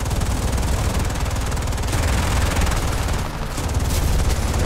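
Rapid, continuous machine-gun fire from a Bf 109 A fighter in War Thunder, a dense rattling burst that runs loud and close for nearly the whole stretch with only a brief dip.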